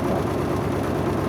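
An old, worn-out farm tractor idles nearby with a steady low, even rumble for a brief moment, no voices present.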